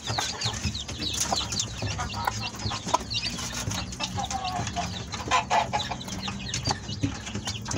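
A rooster and hens clucking and calling repeatedly, close by, over steady farmyard background noise.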